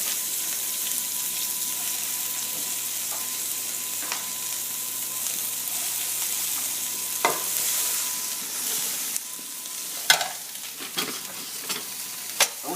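Cabbage frying in a pan with pepper and being stirred, a steady close sizzle broken by sharper scraping clicks and stirring knocks toward the end.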